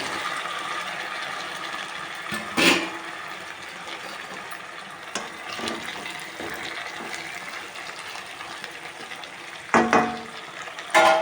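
Pieces of Chandava fish for an Ongole-style fish curry hit a hot pan and sizzle, a steady frying hiss broken by a few sharp bursts of clatter and splashing.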